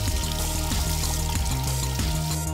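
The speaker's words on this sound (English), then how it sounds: "Let's rinse it one more time under the water tub." Water pours into a tub while a computer part is rinsed under it, a loud continuous splashing wash heard close up over a steady tonal background.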